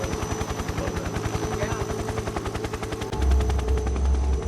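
A helicopter in the video game Metal Gear Solid 3: Snake Eater gives off a loud, steady rapid rotor chop that runs throughout, with a deeper low rumble swelling in near the end.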